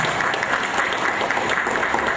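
Steady, dense applause from an audience at a club meeting, close and loud throughout with no pauses.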